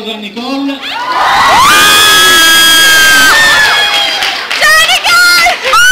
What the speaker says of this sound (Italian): Facciamo tutti un applauso a Nicole.